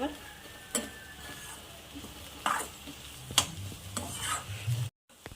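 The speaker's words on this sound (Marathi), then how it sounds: "स्लो आचेवर असं छान फिरवायचं आहे" Peanut chutney stirred in a pan over a low flame: quiet sizzling beneath a series of distinct spoon scrapes and clinks against the pan at an irregular pace, then a brief cut to silence near the end.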